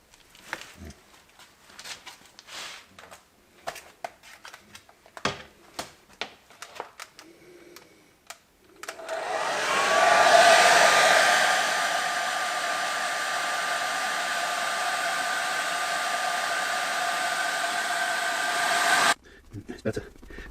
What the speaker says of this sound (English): I'm going to dry this off now with the hairdryer